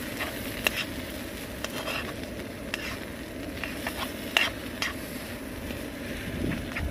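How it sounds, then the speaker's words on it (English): A spoon stirs food in a camping pot outdoors on a cold, rainy winter night, soft scraping and gentle sizzling close by under a steady wash of rain and wind. "Let's get it all mixed in now."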